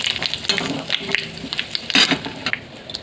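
Two dried red chillies and panch phoron five-spice fry in hot mustard oil in a kadai. Close, continuous sizzling with sharp pops and crackles that swell and fade, and no one speaking.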